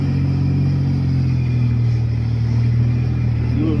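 A tuk-tuk engine rumbles steadily while the vehicle rides through the back lanes around Loi Kroh Road, a loud, close, continuous mid-pitched drone with slight shifts in pitch and no voices.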